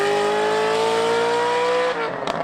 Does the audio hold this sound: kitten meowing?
no